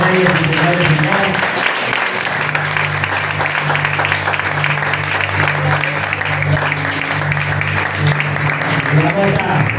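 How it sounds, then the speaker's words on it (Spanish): A church congregation breaks into sustained, dense applause, loud and continuous with crowd noise, after a preacher calls for praise. "vamos a darle un aplauso a Rey de Reyes y Señor de Señores"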